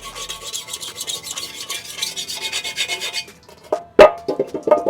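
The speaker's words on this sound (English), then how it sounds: "we have a razor blade, and we're gonna go ahead and clean off the surface here of, you know, the old one" A razor blade scrapes old gasket maker off the oil pan of a wrecked 2023 BMW M240i in rapid, rhythmic rasping strokes up close, then stops and is followed by a few sharp knocks and handling clatters.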